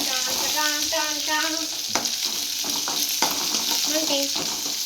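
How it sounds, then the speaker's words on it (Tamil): Mutton and onions sautéing in a pan for mutton chukka, a loud continuous sizzle with repeated scraping stirs of a spoon close by, no talking. "அதை போட்டுட்டு அப்புறம் கொஞ்சம் நேரம் வதக்கணும். அது நல்லா வதங்குற வர."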